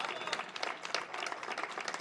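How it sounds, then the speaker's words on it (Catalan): A crowd at a poster presentation for the Sant Feliu de Llobregat autumn festival applauding a writer, steady dense clapping for about two seconds. "un fort aplaudiment per ell."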